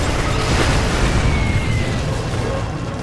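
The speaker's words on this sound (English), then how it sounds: "Particle cannon activated." Particle cannon blast in Command & Conquer Generals with the Shockwave Chaos mod: a loud, sustained roaring boom of broadband energy that fills the whole stretch and tapers slightly at the end.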